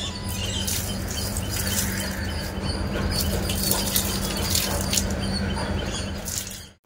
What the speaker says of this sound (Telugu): అలా మొక్కలన్నిటికి ఎరువు వేసి పైనుంచి ఆవు పేడ వాటర్ కూడా వేసేసాను